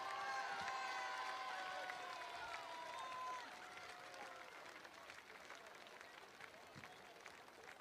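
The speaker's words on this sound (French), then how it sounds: "Je vous demande d'applaudir Waris Elaoui et ses compagnons de lutte." Crowd applause for strikers at a French political rally, steady clapping and cheering from a large audience, louder at first and easing off slightly, with voices and some tonal sounds above it early on.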